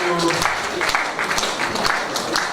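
Applause from a builders' conference audience for the event's organizers and scientific committee, scattered distinct claps over a crowd wash with a faint voice early on.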